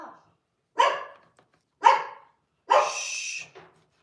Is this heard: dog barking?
yes